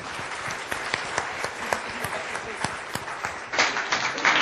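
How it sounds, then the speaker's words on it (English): Audience applause after a talk on spray-on skin, a dense wash of many hands clapping with distinct sharp claps standing out, swelling louder near the end. "give them both, please, a round of applause"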